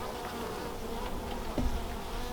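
Honey bees drone in a steady, close buzz over an opened hive, continuous throughout with one brief soft knock partway through.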